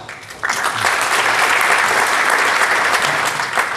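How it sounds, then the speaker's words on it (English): A crowd claps and applauds steadily for a few seconds, dense and continuous rather than separate single claps. "Give these guys 3 claps."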